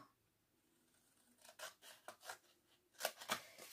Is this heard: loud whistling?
no